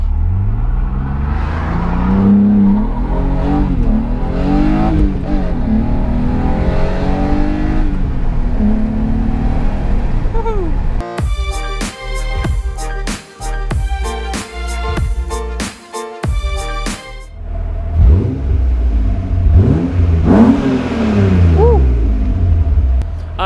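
A car with a Dinan tune launches with traction control off, its engine revving and roaring as it accelerates hard through the gears, loud and close, with brief shift breaks and talk over parts of the run.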